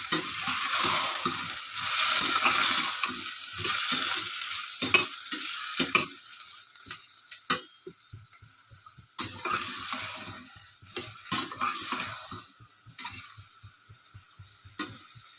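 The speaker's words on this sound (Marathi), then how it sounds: "त्यातच थोडासा कढीपत्ता ते टाकून घेऊ. 2 मिनिटं छान भाजून घेऊ." Vegetables and curry leaves sizzle in a pan for veg pulao while a spoon stirs them, producing scraping strokes and bursts of frying that swell and fade, close and without speech.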